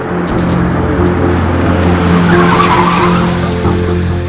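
A car turning sharply skids with a sustained tire squeal over a steady engine drone, loud and close throughout, with no talking.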